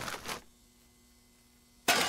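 Glass breaking in the video game 7 Days to Die: two quick bright shattering bursts up front, then a near-silent pause before another sharp break cuts in loudly at the end.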